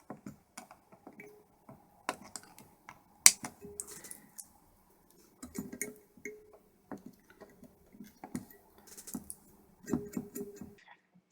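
Flush cutters snip component leads off a printed circuit board, producing many faint, sharp little clicks and ticks scattered irregularly, with occasional louder snaps and light handling noise.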